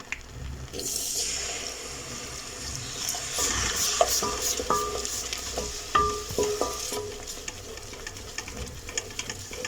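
A spoon stirs a thick white sauce in a pan while whole milk is poured in a little at a time, giving soft wet scraping and gentle bubbling with small clinks, steady and close, with no talking.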